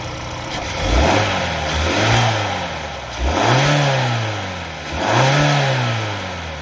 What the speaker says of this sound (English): I'll give it a couple of revs and we'll see what it sounds like